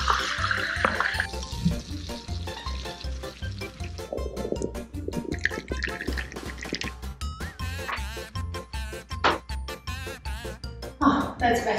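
Tap water runs into a glass in a home kitchen, a bubbling, rising fill heard close by, with some clinks and rustles around it.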